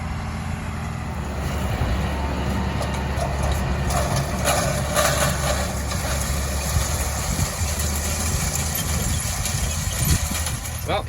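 A farm tractor engine chugs at a steady low rumble while working the last field of planting season, with someone talking over it.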